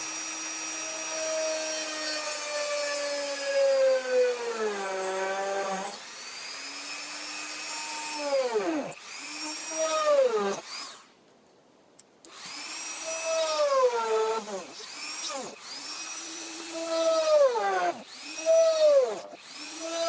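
A power drill's motor whines loudly while drilling holes in the wood of an RC Douglas DC-3 model airplane, rising and falling in pitch as it revs up and slows down in repeated bursts, with one brief silent pause.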